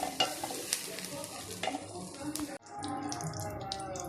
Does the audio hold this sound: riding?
no